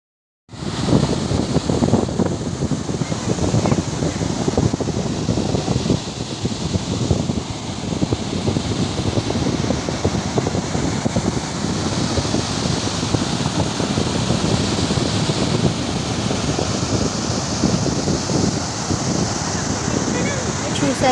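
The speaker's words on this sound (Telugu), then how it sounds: "వాటర్ ఫ్లో ఎలా సౌండ్ వచ్చింది అనేసి ఆ సౌండ్స్ కూడా నేను పెట్టాను మీకోసం" Water flowing at Wadi Dayqah Dam near Muscat, a steady loud broadband rush that holds unbroken for about twenty seconds with no voices over it.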